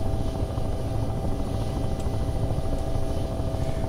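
Steady, loud helicopter engine and rotor drone from the Take on Helicopters flight simulator game, a continuous low whirring roar that holds evenly throughout with no voices.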